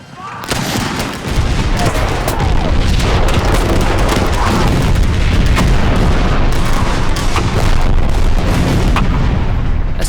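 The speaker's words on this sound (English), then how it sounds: "When the Yankees get within 40 yards, the Confederates unleash a murderous crossfire." Dense, loud gunfire crackles nonstop in a Civil War battle reenactment crossfire, overlapping rifle volleys and booms blending into a roaring fusillade.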